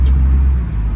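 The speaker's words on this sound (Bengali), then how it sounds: "এখন সে গাড়ি চালাবে।" A car being driven near a metro rail line gives off a brief, steady low engine rumble that is close and fairly loud, with no voices.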